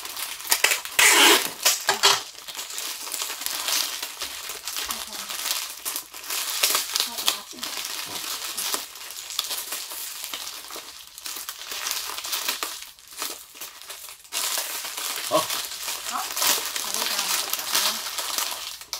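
Gift wrapping paper being crinkled and folded around a round present with tape wound over it at a late-night Christmas wrapping session, steady close rustling and crumpling throughout, with people talking alongside.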